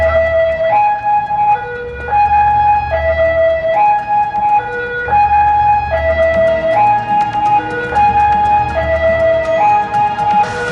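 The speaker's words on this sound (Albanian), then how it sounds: "po dërgoj menjëherë ambulancë" An ambulance siren in an Albanian TV advertisement wails in a steady two-tone cycle, high and low notes alternating about every second, loud and continuous over an engine rumble.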